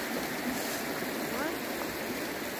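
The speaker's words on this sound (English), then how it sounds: "Here's the Virgin River, which is very small compared to the Colorado River, but still very beautiful" The small Virgin River in Zion National Park flows past in a steady, continuous rush of water, close by and even in level, with no clear voices.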